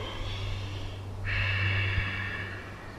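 A slow, deep breath through the nose and mouth during a yoga hip-opening stretch, soft and close, with a steady low hum beneath it.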